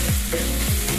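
Onions frying in a pan with turmeric added while making a fenugreek and dried shrimp dish, giving a steady close sizzle with faint stirring scrapes and no talk.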